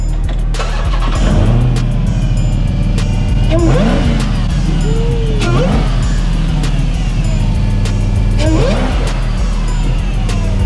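A car engine idles loudly up close, its steady rumble broken by several throttle blips that rise and fall in pitch.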